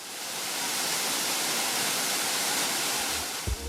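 Jungle waterfall on Siquijor island in the Philippines, a steady broadband roar of falling water that holds constant and close throughout, with a brief low thump near the end.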